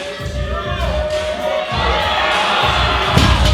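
Crowd cheering and shouting at a strongman competition, the Kern US Open, a loud steady roar of many voices with scattered thuds, filling the space throughout.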